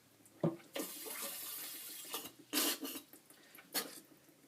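Water being sucked out of a toilet tank with a small rubber bulb syringe during a Fluidmaster dual flush conversion install, a series of wet slurping gurgles and splashes in several short bursts, close by.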